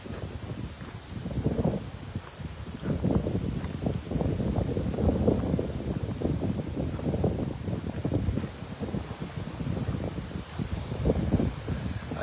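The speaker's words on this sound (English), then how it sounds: "This wind is very agreeable" Steady outdoor wind buffeting close to the microphone in low, rumbling gusts that rise and ease without pause, with no voices over it.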